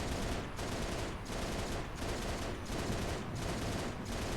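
Sustained automatic turret gunfire in the Halo video game, a dense, continuous barrage of rapid shots with periodic brief dips, loud and close throughout with no talking.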